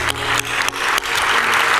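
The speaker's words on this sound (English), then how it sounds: "let's clap it up for these 14 OGs" An audience at a business talk applauds a group of retirees, a loud, dense wash of clapping that swells and holds for the full stretch, close and unbroken.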